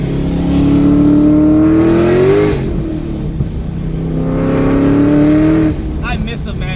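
A 2015–2017 Ford Mustang engine revs up twice, rising in pitch each time with a throttle blip between, loud and close, followed by a short click.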